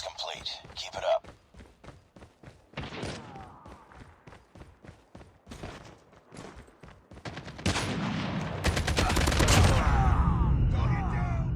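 Game gunfire from a rifle in Call of Duty Mobile: rapid bursts of shots throughout, building into a dense, loud barrage in the final seconds, with a voice heard at the start.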